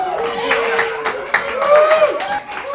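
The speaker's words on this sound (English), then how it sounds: "What are you cheering at?" Audience clapping and cheering at a live stage show, a steady wash of applause with a few sharper claps and a voice rising over the crowd noise.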